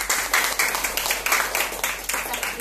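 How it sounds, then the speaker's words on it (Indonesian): Audience applause at an indoor beauty product Q&A session, a short burst of fairly close clapping from a small crowd with uneven rhythm. "Beri aplaus dong untuk ini."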